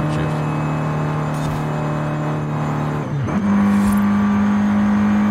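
A Honda Civic engine in Forza Horizon 5 drones at a steady high pitch through sixth gear, then dips sharply and settles at a new pitch after a quick shift, loud and continuous with no talk over it.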